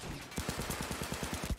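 Rapid automatic gunfire in Battlefield V, a burst of about a dozen evenly spaced shots fired close and loud over roughly a second, with no talking.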